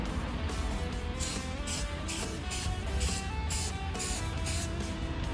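An aerosol coating being sprayed onto black plastic car trim, heard as a string of short, evenly spaced hissing bursts that repeat close to the listener with no talking.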